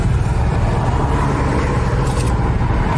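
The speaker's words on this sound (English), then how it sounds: "I stopped you because you're loud exhaust" A loud car exhaust rumbles continuously nearby, a thick low drone with steady roar throughout, no voices over it.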